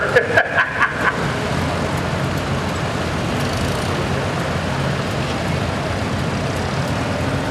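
A 1956 high-crop tractor, a rare California vegetable model with a single front wheel, drives past at the Red Power Round Up 2013 show as a steady engine drone, preceded by a few sharp clicks at the start.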